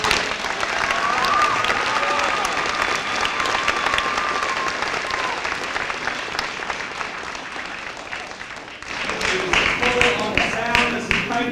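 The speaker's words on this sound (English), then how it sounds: "How about a big round of applause for our director, Ms. Karen Sullivan." Sustained audience applause fills a school hall during an elementary school music program honoring veterans, thick and continuous clapping with crowd voices and cheers mixed in, dipping briefly before swelling again near the end.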